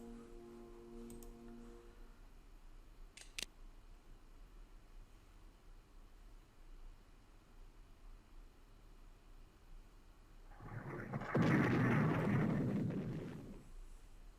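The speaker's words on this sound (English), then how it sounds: "Just a little artillery bombardment there." Artillery bombardment in the wargame The Operational Art of War 4, heard as a loud rumbling blast swelling near the end after a quiet stretch with a few faint clicks, with no talk.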